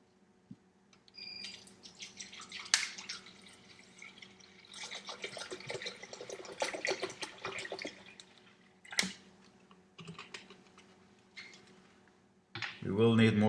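Water pours from a tap into a blender jar in a home kitchen as turmeric is prepared, a steady splashing run through the middle of the clip with a louder gush near the end, while a person talks over it.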